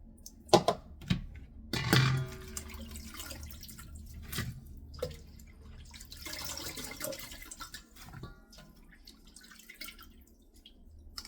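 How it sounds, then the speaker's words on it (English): Water dripping and trickling off rinsed salted cabbage left to drain for kimchi, sparse irregular drops and soft splashes, close and quiet. "I'm gonna let this drain for about 10 minutes."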